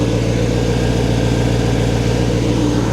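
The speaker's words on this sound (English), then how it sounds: "Listen to this exhaust." A Corvette exhaust rumbles at a steady idle after flood damage, a deep continuous drone close by with no voices.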